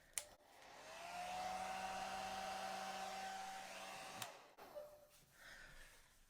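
A hair dryer blows a steady stream of air across pink acrylic Dutch pour paint, running loud and unbroken for about three seconds before cutting off, followed by quieter handling noise.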